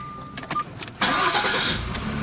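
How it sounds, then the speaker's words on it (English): A 2004 Jaguar X-Type with newly replaced intake manifold gaskets and spark plugs is started: a brief starter whir and clicks, then the engine catches and settles into a steady, loud idle close by. "Car starts are all good."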